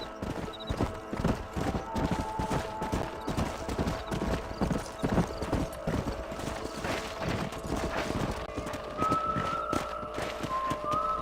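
Horse hooves clip-clop at a steady trotting rhythm in the video game Red Dead Redemption, with a brief neigh and faint ambient tones behind them.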